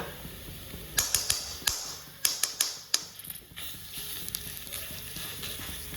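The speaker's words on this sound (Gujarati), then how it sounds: "ખજૂર એકદમ પોચો છે જેથી કરીને તેને મેશ થતા વાર નહીં લાગે થોડું આપણે તેમાં ઘી એડ કરીએ" Ghee added to soft mashed dates in a pan while making khajur pak, giving a quiet, steady sizzle broken by a string of sharp clicks and taps from a spoon against the pan.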